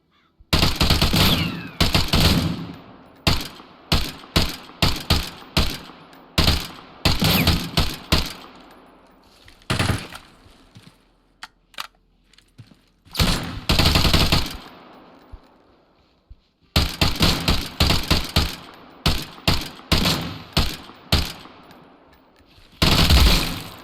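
Loud bursts of automatic gunfire from the shooter game Deadside, some sustained volleys and some quick single shots, separated by short quiet gaps with faint background ambience.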